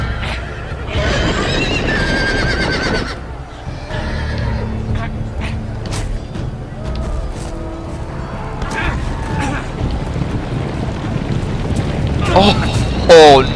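A horse neighs amid the dense, loud action of a Game of Thrones video game, its whinny rising from a thick mix of game sound effects and music, with a shrill neigh near the end.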